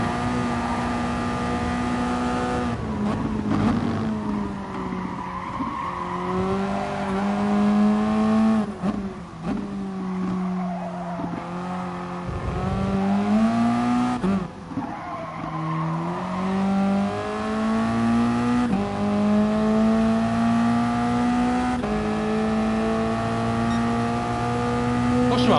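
A Toyota race car in a GT league racing video game revs loudly and continuously, its engine pitch climbing and dropping through repeated gear changes and braking, with brief tire scrubbing between.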